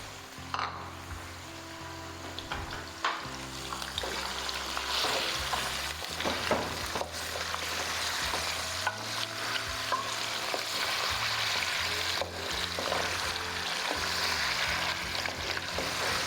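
Beef sizzling and frying in hot oil in a karahi, a steady loud crackle with stirring scrapes throughout, no talking.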